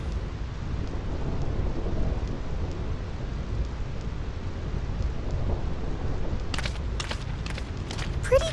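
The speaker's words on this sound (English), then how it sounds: "This storm never stops." Steady heavy rain and rumbling thunder from the endless storm of the Thunder Plains in Final Fantasy X, a continuous loud wash with sharp crackling lightning strikes bursting in near the end.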